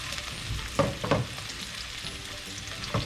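Onions frying in a pan with cumin for chana dal lauki, a soft continuous sizzle with a few louder stirring clatters, heard close and alone.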